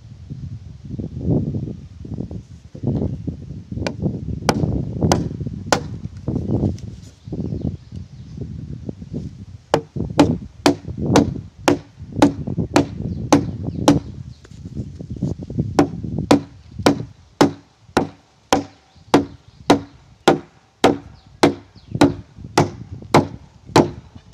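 Axe or adze chopping into a timber-frame top plate, throwing off shavings and chunks, in a steady series of sharp close blows that quicken into a regular rhythm in the second half, with no talk.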